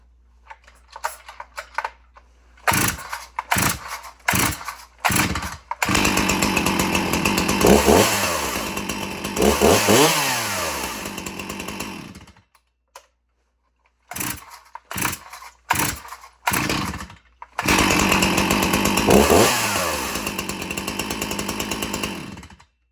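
Husqvarna chainsaw engine with a carbon-fouled decompression valve, fitted with a fresh chain, sputtering through short bursts and then revving in long loud stretches, stalling in between before roaring again, with no talk.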